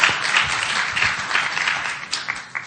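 A live audience applauds to welcome a speaker onto the stage at a business tourism summit, steady clapping spread through the room at moderate loudness with a few sharper claps near the end.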